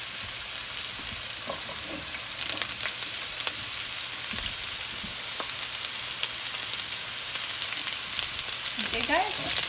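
Asparagus sizzling in olive oil in a pan, a steady loud hiss of frying with occasional crackles and faint stirring sounds, close up and continuous.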